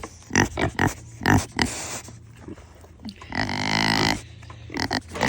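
Kune Kune pigs grunt and snort close by in short irregular bursts, with a longer squealing grunt in the middle, heard without any talking.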